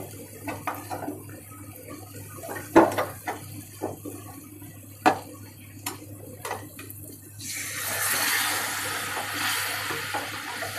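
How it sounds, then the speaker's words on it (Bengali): Water poured into a pan of dried loitta fish curry: scattered clinks and stirring taps at first, then a sustained pouring and bubbling hiss in the final few seconds, fairly close and quiet. "ভালো করে নেড়ে এটার মধ্যে একটু পানি অ্যাড করব।"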